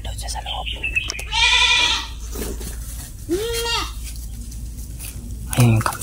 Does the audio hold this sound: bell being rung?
no